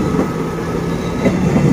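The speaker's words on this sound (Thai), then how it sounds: "ลงรถปุ๊บรถไฟมาพอดีนะ" A train rolls past on a Thai railway line in the morning, a loud, steady, close rumble with rhythmic wheel clatter throughout and no voices.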